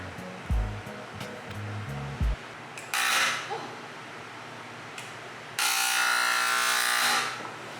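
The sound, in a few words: paint sprayer spraying paint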